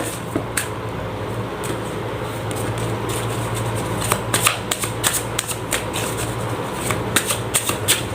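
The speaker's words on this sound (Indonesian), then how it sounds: "Langsung saja saya shuffle kartunya" Tarot cards are shuffled by hand in quick repeated riffles and soft snaps, close to the listener over a steady hum of fan or air-conditioning noise.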